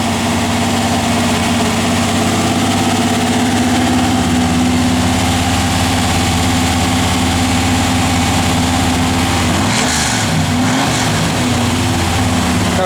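1967 Chevrolet Malibu engine idling on a freezing cold day, a loud, steady low rumble with a constant droning hum throughout, briefly disturbed near the end by a faint clunk.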